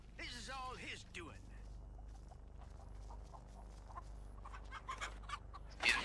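A chicken clucks in a Texas Chain Saw Massacre video game, giving short, scattered clucks and pecking patters at moderate distance after a burst of voices.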